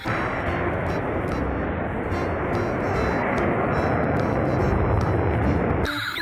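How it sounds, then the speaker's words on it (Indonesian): A steady, droning engine hum like a small propeller plane runs nonstop from a toy military airplane, with faint clicking on top and a short change at the very end. "Ini pesawat militer"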